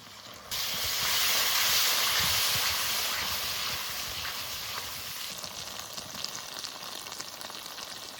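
Ground cumin and coriander paste, with dried chilli and black pepper paste, hits hot oil and fries with a loud, steady sizzle and hiss that swells at the start and then settles into a constant crackle.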